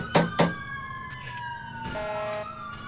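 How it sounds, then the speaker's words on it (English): A police siren in GTA IV wails steadily with rising and falling tones, preceded by two short sharp blips, fairly loud and close. "let's go code 1, but really, with our sirens on"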